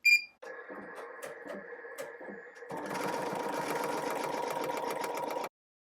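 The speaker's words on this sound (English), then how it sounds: "let's go ahead and do the tack down stitch" Embroidery machine sewing a tack down stitch: after a brief beep, a steady rhythmic needle chatter starts lightly, then rises into a louder, continuous mechanical hum and clatter that runs several seconds before stopping abruptly.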